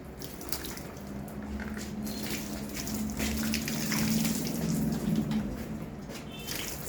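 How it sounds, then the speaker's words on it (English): Water from a bottle poured onto a running waterproof luxury fan during a demonstration, a steady splashing wash over the low hum of the spinning fan, continuous and fairly quiet. "this is a bottle of water and I am going to pour it on the fan"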